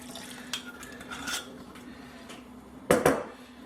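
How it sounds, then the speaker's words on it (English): A crock pot lid clatters onto a slow cooker holding lamb stew, with a sharp clink near the end and a few lighter knocks of cookware earlier, close and fairly loud over a low background hum. "gonna get this lid on here, get this crock pot going"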